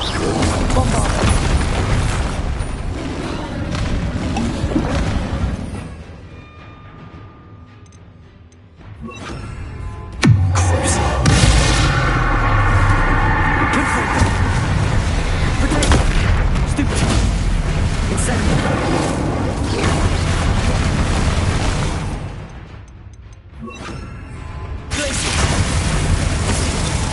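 Bombarda blasting spells going off in Hogwarts Legacy, a run of loud booming explosions with rumbling low-end bursts, one sharp blast standing out midway, layered over game music and effects.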